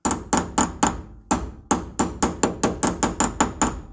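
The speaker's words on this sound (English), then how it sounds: "just give it a tap around with your hammer" Hammer tapping a grease cap onto a drum brake hub on Mopar drum brakes, a run of about fourteen sharp metallic knocks in quick uneven rhythm, close and loud with no voices.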